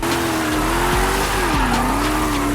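A Mercedes E55 AMG wagon drifts with a loud, close tire squeal that wavers in pitch over a steady engine drone, and brief thumps mark shifts in grip.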